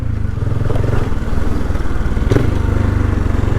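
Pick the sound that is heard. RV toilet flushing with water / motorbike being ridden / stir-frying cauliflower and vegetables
motorbike being ridden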